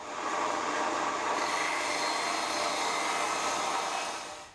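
A powered saw trims one inch off the top of a wooden board for a desk topper, blade set just above the material, producing a loud, sustained broadband roar that runs unbroken for over four seconds.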